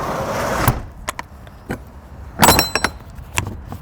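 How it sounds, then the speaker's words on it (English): Rear door of a large goods vehicle being pushed shut and latched outdoors, heard as a few sharp metallic thuds and clatters, the loudest burst in the middle followed by smaller knocks, with no talk. "So I'm going to shut the door back up."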